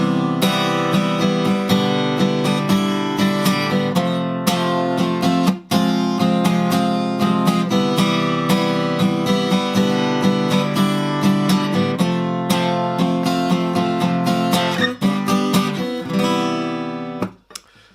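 A steady strummed guitar plays the repeating chord pattern of a song with a relaxed, even rhythm, loud and close throughout with no voice.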